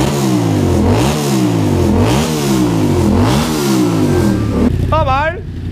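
An engine fitted with a cheap 32-euro aftermarket exhaust revs repeatedly in loud, rising and falling bursts, ending with a brief higher whine as it drops off.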